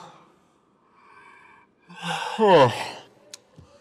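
A single drawn-out yawn, breathy then sliding down in pitch, close to the listener, followed by a faint click.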